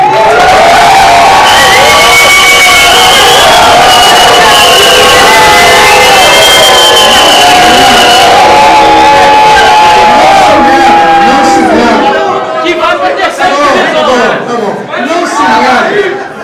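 Vasco da Gama football supporters cheering loudly as a dense crowd, with shouts, whoops and chanting voices swelling throughout, then thinning into scattered calls near the end.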